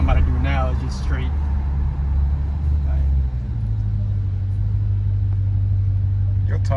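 A Dodge Scat Pack with a modified exhaust rumbles loud and close in a deep steady drone that shifts lower partway through, with the tires spinning, while someone talks over it.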